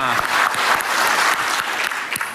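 Audience applause fills a hall during a game awards show. It is steady, dense clapping from a large crowd, with a faint voice partly under it.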